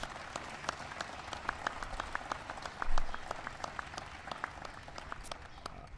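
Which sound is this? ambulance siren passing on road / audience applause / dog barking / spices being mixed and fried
audience applause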